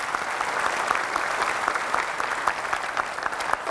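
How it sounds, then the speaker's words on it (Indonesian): Studio audience applause greets a campaign team representative on a televised political talk show, a sustained, even roar of many hands clapping with sharp individual claps standing out. "Kita kasih tepuk tangan untuk Tobas."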